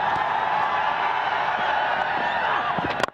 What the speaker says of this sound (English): That was why there was a cheer.